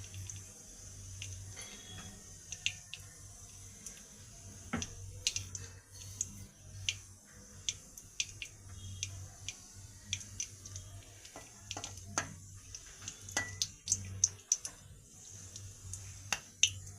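Garam masala spices crackle and pop while tempering in hot white oil, giving scattered sharp snaps over a faint low sizzle that run steadily for the whole stretch with no voices.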